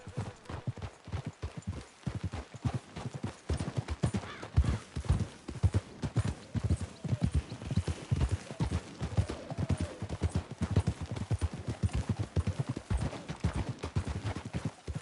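Horses clip-clopping in a video game, a rapid run of hoofbeats, close and rhythmic, with a neigh here and there and occasional faint speech.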